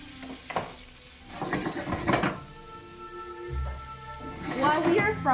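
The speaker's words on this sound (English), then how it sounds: "while we are frying Mr. Tofu" Tofu fries in a pan with a soft sizzle, broken by stirring scrapes and clinks of a utensil against the cookware while someone talks over it.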